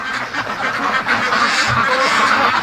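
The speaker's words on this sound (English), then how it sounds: "The ducks will be going crazy." Free-range ducks quack loudly and continuously at night, several birds calling together in an overlapping, noisy chorus close by.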